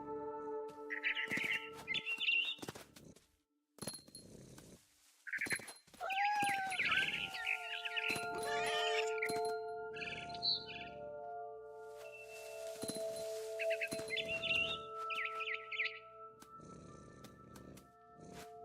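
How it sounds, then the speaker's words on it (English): Bright barn swallow chirps and tweets in the video game What Remains of Edith Finch come in bursts between steady tones and clicks, some sliding calls mixed with faint mechanical background sounds. "I heard chirping outside my window. It was a barn swallow going back to her nest."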